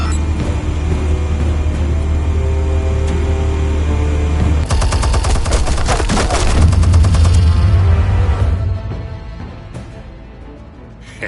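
Heavy weapons fire in the Batman Telltale video game: a loud, sustained roar and a dense burst of rapid shots and blasts mid-clip, then fading to quieter rumble near the end.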